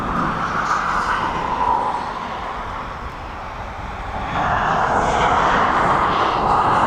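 A Ryanair Boeing 737 flying circuits over East Midlands Airport, a continuous jet engine rumble that dips slightly midway and then swells louder again, with no voices.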